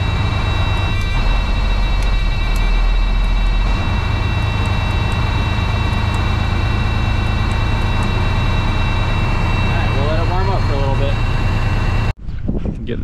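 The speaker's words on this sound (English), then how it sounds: "We'll kick up the RPMs a little bit so it idles a little bit faster." Semi truck engine idling at raised RPMs on a farm before hauling grain: a loud, steady low diesel rumble that climbs slightly in pitch partway through and holds until a sudden drop at the end.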